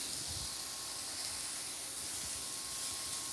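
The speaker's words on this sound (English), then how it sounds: "We're gonna add our bacon. And what we want to do is saute this until it's crispy." Bacon sautéing in a hot pan at medium-high heat, a continuous broad hiss of fat frying, steady and close with no talk.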